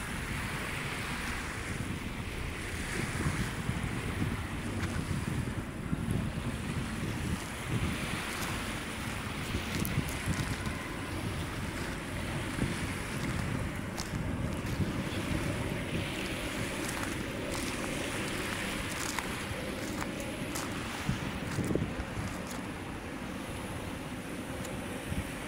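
Waves and wind along Manila Bay in the afternoon make a continuous broadband wash with gusty wind buffeting the microphone, steady throughout with no speech.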